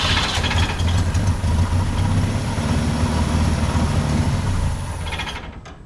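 A 1965 Datsun 320 pickup truck engine running at a rough, steady idle with a low rumble, close and loud throughout, fading slightly near the end.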